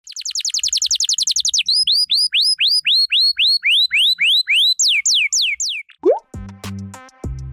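A bird calls loud and close in a long run of quick, rising whistled notes repeated evenly, speeding and shifting pitch before breaking off into a short burst of lower, buzzier notes.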